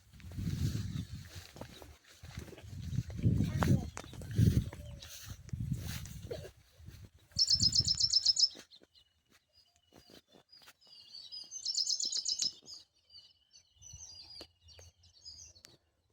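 House sparrows at their nest in a paddy field give two short bursts of bright, rapid chirping, fairly close, after a stretch of talk and before quieter rustling with a low hum.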